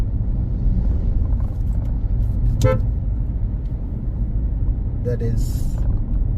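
Car driving through a green area on Barbados' west coast, with steady road rumble and tyre noise throughout, a short horn toot near the middle, and a person talking over it.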